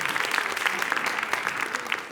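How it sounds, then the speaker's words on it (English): An audience at a School of Communication annual awards ceremony applauds steadily, a dense wash of many hands clapping at moderate volume that carries on without a break. "let's give a round of applause for doing well"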